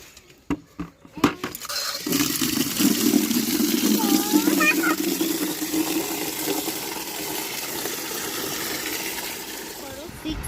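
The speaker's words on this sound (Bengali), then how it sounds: "ট্যাঙ্কি থেকে জল দিই।" A few clinks of a vessel, then water pouring steadily from a household tank, a continuous rushing flow with a voice heard over it.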